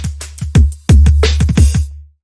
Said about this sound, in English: So those are the main drums